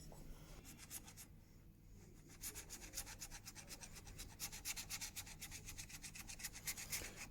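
An old plane blade honed on a sharpening stone, a rhythmic back-and-forth scraping rub repeating in quick strokes, faint and close, pausing briefly before resuming steadily.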